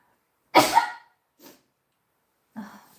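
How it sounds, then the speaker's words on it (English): A single loud, sharp sneeze bursts out close by, followed by a faint breath and later a short quieter exhale or vocal sound, with silence between. "I'm going to sneeze."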